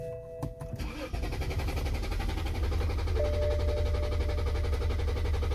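A 2011 BMW 328i with a voltage fault cranks briefly and catches, settling into a steady, close running engine drone after a short starter whir.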